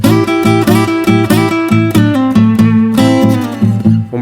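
A blues guitar plays a double stop lick from the minor pentatonic scale over a backing track. Paired notes ring out loud and rhythmic above a steady accompaniment, with no speech.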